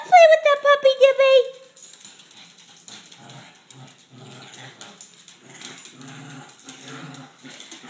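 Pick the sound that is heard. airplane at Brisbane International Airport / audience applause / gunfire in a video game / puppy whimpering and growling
puppy whimpering and growling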